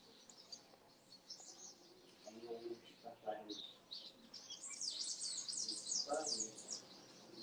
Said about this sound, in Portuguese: Os passarinhos seguem cantando.